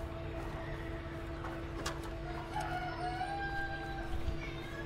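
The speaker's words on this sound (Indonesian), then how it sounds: "Ini ayam." Chicken clucking in the video game A Way Out, a few short clucks and squawks against a steady low game background hum, with no talk over it.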